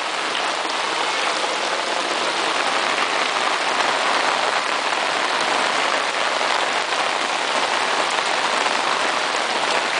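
Heavy rain pours continuously during a street flood in Murcia, forming a dense, loud, even hiss that never lets up across the whole stretch, with no voices.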